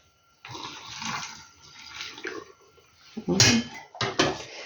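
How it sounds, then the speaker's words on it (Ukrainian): Boiling water poured from a kettle into glass jars packed with zucchini slices for pickling, a splashing stream in several bursts with clinks of glass near the end. "Зараз буду заливати гарячим кипятком."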